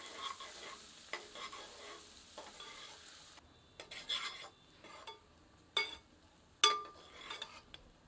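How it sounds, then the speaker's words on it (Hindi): Finely chopped onions frying in a pan over medium heat, a soft crackling sizzle with intermittent scraping stirs that come in bursts, close and unaccompanied by speech. "इसे मध्यम आंच पर हल्के सुनहरे रंग का दिखने तक भूनते रहते हैं।"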